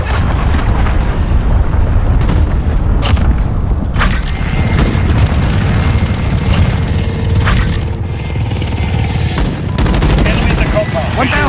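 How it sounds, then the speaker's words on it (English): Cruise missile strikes in Modern Warfare on the Euphrates Bridge map, a string of heavy booms and blasts amid rattling gunfire, loud and continuous with several sharp impacts. "Allied cruise missile on the way."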